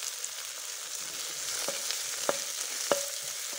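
Onion and tomato fry in a pan with salt and turmeric, giving a soft, steady sizzle close by, broken by a few sharp clinks of a stirring utensil against the pan.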